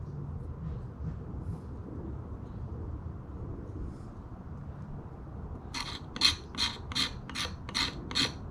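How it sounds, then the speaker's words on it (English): Rasping scrapes of a knife spine against a ferro rod, a steady scraping rub followed by a run of six or seven sharp, bright strikes in quick rhythm, close and fairly quiet, with no speech. "Let's see how it sparks a ferro rod."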